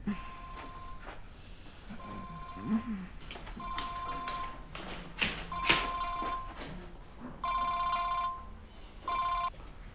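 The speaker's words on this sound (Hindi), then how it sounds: "तुम्हारा फोन बज रहा है।" A mobile phone rings in a room during a Hindi-dubbed drama scene, its electronic tone sounding in several repeated bursts, with clicks and light handling noises between them and no talk over it.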